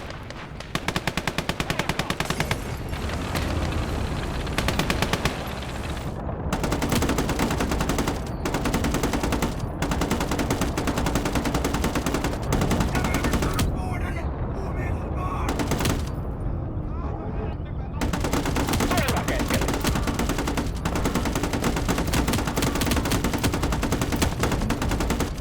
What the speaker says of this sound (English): listening to the rat-a-tat-tat of the machine guns